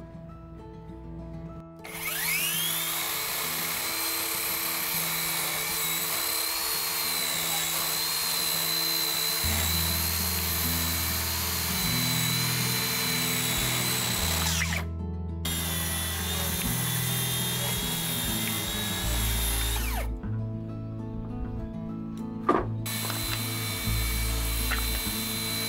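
A power saw cutting the ends of wooden deck boards, its motor spinning up to a loud steady high whine, cutting through in long passes with two short pauses and a final spin-up, alone without speech.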